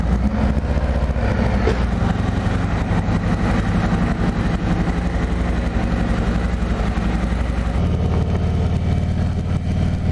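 2020 Harley-Davidson Electra Glide Standard (FLHT) riding out of a neighborhood: a steady, loud engine rumble with wind noise throughout, no talking.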